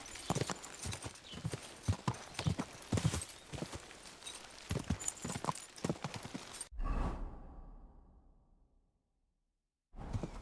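Rapid horse hooves clip-clop in a steady galloping rhythm in the video game Kingdom Come: Deliverance 2, then the sound cuts off abruptly and fades out before resuming briefly.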